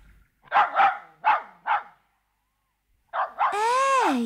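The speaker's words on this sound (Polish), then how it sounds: "Co tam szczeka tak pod lasem, przed dróżnika siedząc budką?" A dog barks near the woods by a level-crossing keeper's hut: four quick barks, then a pause, two more barks, and a long rising-and-falling whine or howl. It is close and clear over near silence.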